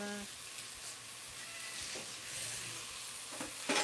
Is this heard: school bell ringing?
no